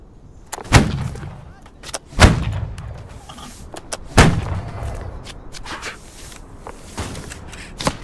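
Gunfire in a video game set in a company-level battle: three heavy, booming shots land roughly every second and a half to two seconds, followed by fainter scattered reports and rumble, with no voices.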